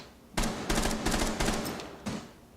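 Bursts of rapid automatic gunfire in the video game Rainbow Six Siege, several fast volleys over a couple of seconds, fairly close and loud, with no talk over them.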